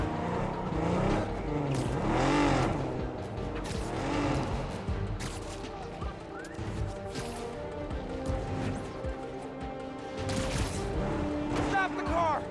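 A car driving in the video game Spider-Man: Miles Morales, with engine revs, crashes and impacts mixed under frequent character dialogue and game effects.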